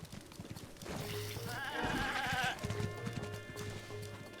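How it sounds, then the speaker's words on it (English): A goat in the Zelda: Breath of the Wild video game gives a wavering bleat over quiet game ambience and soft footsteps, close and moderately loud. "As long as this goat doesn't get in my way."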